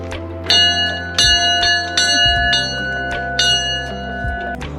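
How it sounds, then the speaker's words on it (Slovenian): A wishing bell at the Šmarno gora summit rings out in a series of clear metallic strikes, each ringing tone decaying while the next is struck, close and fairly loud with no voices. "Pa ne pozabite na zvonec želja."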